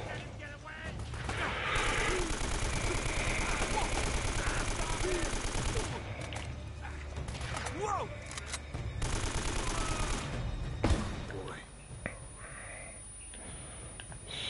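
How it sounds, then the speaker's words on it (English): Rapid bursts of automatic gunfire and explosions from the video game Uncharted: Drake's Fortune rattle on almost continuously, loud and dense, then drop off near the end, with a player's voice heard faintly underneath. "Stop shooting at me, you asshole."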